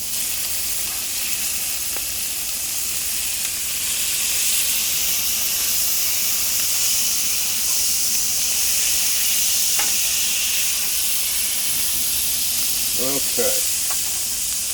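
Smash burger patties sizzle on a griddle right after flipping, a steady loud hiss lasting throughout, with a few scraping clinks of a spatula and someone briefly speaking.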